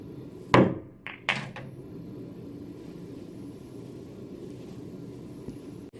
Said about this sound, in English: So here is a small masse around the 4 ball.